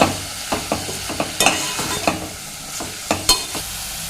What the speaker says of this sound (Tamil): சேர்த்துட்டு ஒன்று சேர லைட்டாக கிளறி விடுங்க